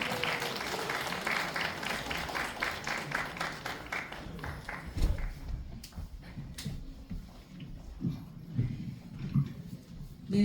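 An indoor audience at a Seoul urban policy forum breaks into warm applause to welcome a member of parliament, dense clapping that thins and fades into scattered claps and shuffling.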